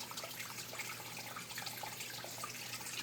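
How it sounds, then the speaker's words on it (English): Steady low rush of water flowing along a creek in dense overgrown surroundings, a soft continuous burble with no pauses and no voices. "They're flowing water through the creek."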